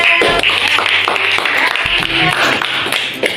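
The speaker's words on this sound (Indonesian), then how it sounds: "Tepuk tangan kita untuk kelompok Farel" A class of eighth-grade English students claps for Farel's group, a dense, steady patter of many hands filling the room with a few voices mixed in.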